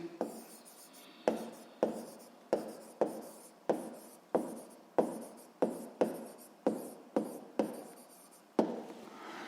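Pen or chalk writing out a physics equation, a series of about a dozen sharp scratchy strokes in quick succession, each starting crisply and trailing off, close and clear with no talk.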